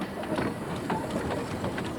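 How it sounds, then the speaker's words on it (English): A steam train rolls up the main street of Kurseong, giving a steady, muffled rumble with faint rhythmic clatter throughout this short stretch. "the train travels right up the main street"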